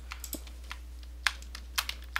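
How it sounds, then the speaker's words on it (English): Soft, irregular computer keyboard clicks while playing Minecraft, with scattered taps and a few sharper keystrokes, fairly quiet, over a low steady hum; no talking. "Sorry if my keyboard's rather loud."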